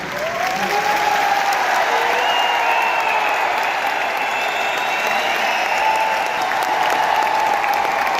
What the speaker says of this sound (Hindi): जोरदार तालियां बनती है तुम्हारे आरसीएम परिवार